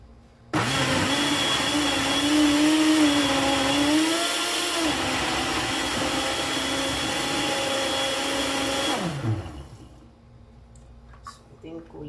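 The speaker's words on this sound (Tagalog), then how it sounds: "So, ang gagawin natin is i-blend na lang po natin." An electric blender grinds cassava with water, a loud steady motor whine running for about eight seconds with shifting pitch as the load changes, then winding down and stopping.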